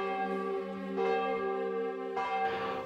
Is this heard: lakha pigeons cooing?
no